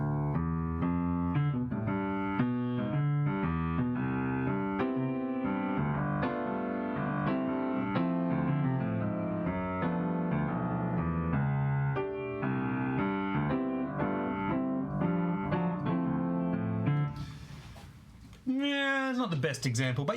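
Cool jazz accompaniment on a blues progression, slower and softer in tone with a moving, walking bass line under the piano chords; continuous and close, then a person speaks briefly over the tail end.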